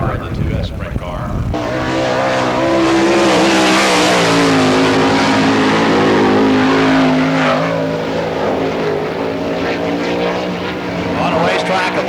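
A 2S sprint car roars around a dirt track at Barberville, Florida during Speedweek, engine loud and sustained through the lap while an announcer talks over it.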